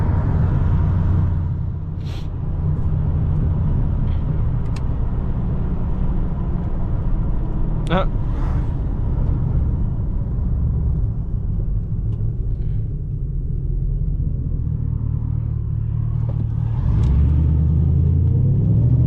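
Steady low engine rumble from a Camaro SS running on E60 ethanol blend fuel, cruising along at a constant drone with little change in pitch, heard close from inside the car.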